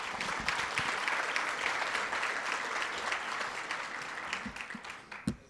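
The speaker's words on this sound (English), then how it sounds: "Let's give Dr. Birdsong another round of applause" A room full of people at a teacher of the year ceremony applauding in a steady, dense round, with a few louder individual claps standing out as it tapers off.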